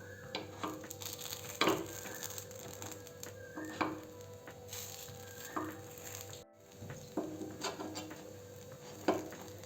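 Appe, rice and urad dal dumplings, are turned over in a frying pan: faint steady sizzling with several clinks and scrapes of a utensil against the pan, and a brief dropout partway through.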